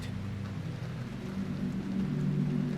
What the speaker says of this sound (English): I can still hear the rain.